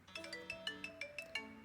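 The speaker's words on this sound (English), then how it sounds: "the family gets interrupted by a ringing Skype call" Skype call ringtone ringing in a home, a quick repeating pattern of bright electronic tones heard alone and fairly soft.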